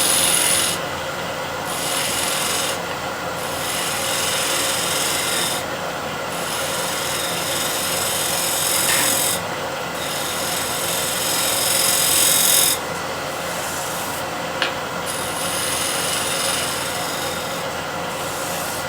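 A negative rake scraper shear-scraping a wood surface on the lathe makes a steady, loud, hissing rasp that runs the whole time, broken by brief lighter pauses as the tool shifts, with no voices.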